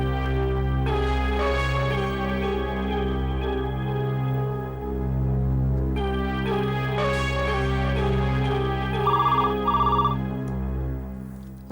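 A telephone ringing in a TV drama scene as a call is placed to Mumbai, a steady repeating electronic ring pattern that continues alone with no voices.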